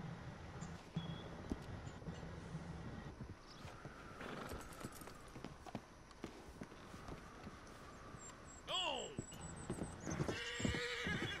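Rhythmic clip-clop of hooves with a couple of high, shaky neighs and whinnies near the end from a horse in Red Dead Redemption 2, over a busy, steady background.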